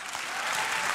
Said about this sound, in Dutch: Geeft u een groot applaus aan Anne Barnhorn.